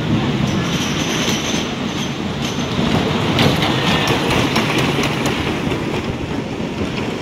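The Revolution roller coaster train at Blackpool Pleasure Beach runs along its track with a loud, steady rolling rumble and clattering wheel noise, with brief sharp rattles throughout.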